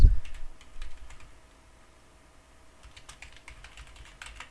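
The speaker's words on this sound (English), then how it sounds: "type in the email address I want to add" Someone types an email address on a computer keyboard, the keys clicking in quick, light bursts nearby. A short pause falls in the middle, and a denser run of taps follows at the end. Nobody speaks.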